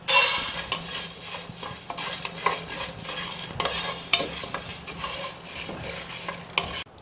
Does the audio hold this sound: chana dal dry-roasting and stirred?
yes